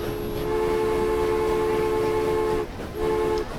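A big steam locomotive in a train video game gives a loud, steady sustained horn or whistle with layered harmonic tones, dropping out briefly near the end and then sounding again, with no talking.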